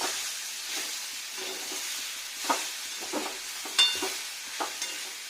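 Vegetables for a vegetarian curry fry in a pan over low heat, a soft continuous sizzle with a few sharper scrapes and clinks as they are stirred, close and alone.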